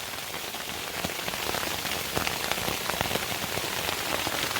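Heavy rain mixed with hail drums on a Sierra Designs Clip Flashlight 2 tent during a thunderstorm. It makes a dense, continuous close patter with scattered sharper hits and no voices.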